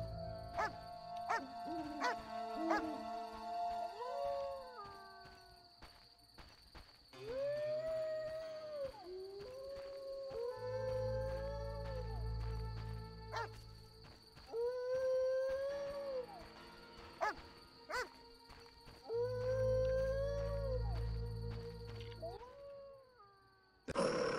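Dogs in The Witcher video game bark and let out long wavering howls, loud and close, repeating in several drawn-out bursts over a low game ambience, with no voices.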